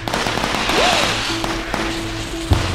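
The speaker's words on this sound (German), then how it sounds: "Oh nein, Schießerei" Gunfire erupts in the SimCity city-building game, heard as sharp popping cracks among busy game sounds and tones, fairly loud, with no talk during the shots.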